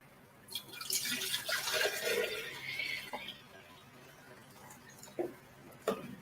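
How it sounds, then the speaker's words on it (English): Coconut milk poured into a blender over banana and papaya, a soft liquid glug and splash running for a couple of seconds at close range, followed by quiet with a few small knocks. "All right, so all this coconut milk, so I'm going to pour that in."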